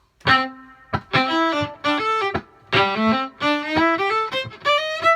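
A bowed violin, viola or cello plays a lively section of a song in short, clearly separated phrases with quick pitch changes, close and solo.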